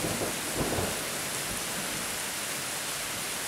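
Heavy rain pours steadily during a thunderstorm, a dense, loud hiss with low rumbling thunder rolling underneath, and no voices.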